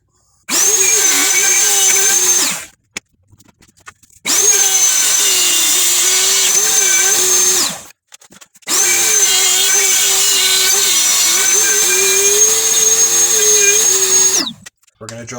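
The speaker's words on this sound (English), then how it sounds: "We're going to drill holes bigger than our router bit." A power drill bores holes through an MDF routing template in three sustained bursts of a few seconds each, loud and close, with brief quiet gaps between them.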